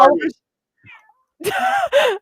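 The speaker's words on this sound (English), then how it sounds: "Did you hear that meow?" A cat meows loudly and close, two drawn-out cries near the end after a quiet pause, with a short human sound at the start.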